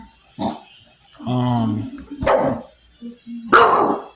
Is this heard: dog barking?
yes